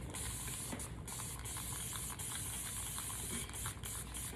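A spray bottle spritzes water onto sectioned hair during styling, producing a close, continuous hiss broken by a few short pauses between squeezes.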